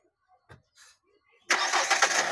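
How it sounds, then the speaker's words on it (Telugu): A 2018 Hyundai Creta automatic fires up after a few faint clicks and a short crank, settling into a loud, close, steady idle. "అదండి సింగిల్ సెల్ఫ్ అయితే బండి స్టార్ట్ అవుతుంది."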